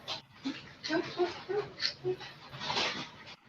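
Puppies make soft, high whimpers and yips in a quick, uneven string. The sounds are fairly faint and run together with a quiet background murmur.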